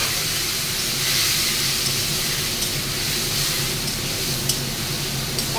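Water poured onto spices frying in a pan gives a loud, steady sizzling hiss that holds throughout with faint crackles.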